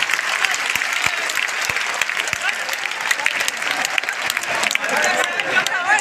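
A seminar audience at a maths meet-up in Patna breaks into loud, sustained applause to welcome a guest, dense clapping filling the whole stretch with a few sharp individual claps standing out and voices mixed in.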